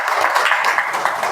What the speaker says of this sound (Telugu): మీకు మీరు ఒకసారి చప్పట్లు కొట్టుకోండి.